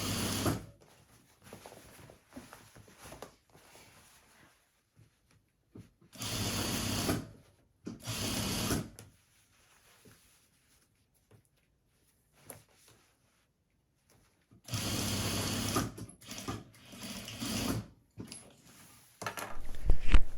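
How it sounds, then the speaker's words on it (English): A sewing machine stitching elastic onto cushion cover fabric, heard as several short whirring runs of fast needle rhythm separated by quiet pauses, close and moderately loud. "you're sewing this elastic to the wrong side of the fabric."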